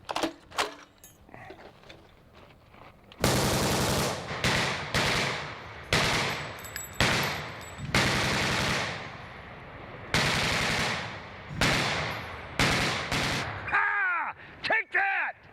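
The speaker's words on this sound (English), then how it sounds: "my favorite of them all, the 50 caliber M2 Browning heavy machine gun" A .50 caliber M2 Browning heavy machine gun fires in long, loud, close bursts separated by short pauses, with sharp echoing reports and a few rapid single shots near the end.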